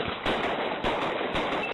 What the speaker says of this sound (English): there was a series of gunshots that were heard